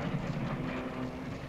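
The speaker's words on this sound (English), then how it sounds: "That's our bomber squadron." A World War II bomber squadron passes overhead, a steady, continuous engine drone that holds loud and even throughout with no speech over it.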